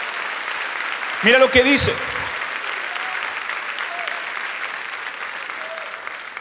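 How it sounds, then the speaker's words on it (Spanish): A church congregation applauds in a steady, sustained wash across the whole stretch, with a voice briefly speaking over it near the start. "Denle un aplauso fuerte a Dios."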